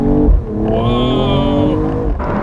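A Mercedes E53 AMG launches hard in Sport Plus mode, its engine rising in a loud, close rev with climbing tonal whine before a brief shift break near the end.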